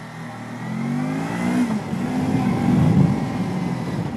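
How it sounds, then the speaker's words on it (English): Lexmoto LXR380 sports motorcycle on a countryside ride, its engine humming steadily and climbing in pitch as it accelerates, a continuous close drone with rising revs throughout. "Gonna take it for a little ride out in the countryside, see what it's like."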